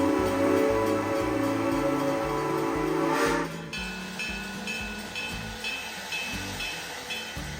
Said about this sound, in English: watch the Great Smoky Mountain train head back to Bryson City